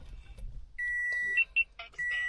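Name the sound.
2014 Toyota RAV4 dashboard beep when ignition is turned on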